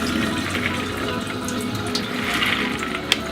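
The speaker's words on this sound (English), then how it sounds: "Rinse this guy out." Mung bean sprouts rinsed in a strainer under a running kitchen tap, a steady close splash and gush of water that continues throughout with no talking.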